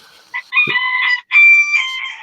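A rooster indoors crows loudly in two long sustained calls, answering another larger rooster outside, with a brief low thump between the calls.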